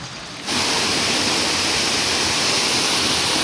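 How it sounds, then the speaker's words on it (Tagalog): Kiray Falls in Pangasinan, a waterfall roaring in a loud, steady rush of falling water that starts abruptly and holds constant, close and without talk. "medyo malapit na tayo kasi naririnig ko na yung tunog ng falls"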